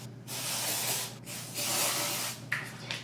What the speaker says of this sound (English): Deodorant.